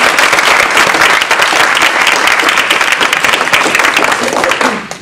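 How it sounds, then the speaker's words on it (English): An audience at a humorous speech contest gives loud, sustained applause, dense clapping for about five seconds before it tapers off. "And one more time, a round of applause for our Toastmaster."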